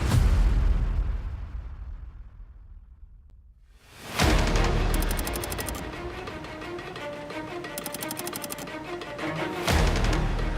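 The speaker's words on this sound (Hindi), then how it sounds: "आप कंस्ट्रक्शन की आवाज सुन सकते हैं।" Construction work on a show set being built: a fading roar gives way to loud, continuous machinery noise with rapid rattling bursts, close and dense throughout.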